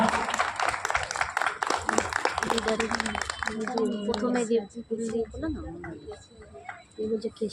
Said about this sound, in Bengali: সবাই একটু জোরে হাততালি দিন